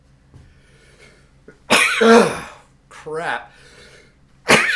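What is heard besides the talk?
sneezing after taking dry snuff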